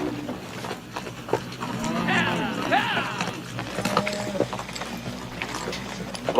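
Horse hooves clip-clop at a slow walk as a rider approaches in a Western setting, a soft irregular clatter heard under people talking and faint rustling.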